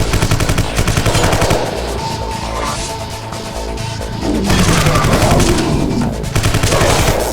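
M16 rifle fire in Vivisector: Beast Within, loud sustained automatic bursts of closely spaced shots with a brief lull in the middle before the firing resumes at full intensity.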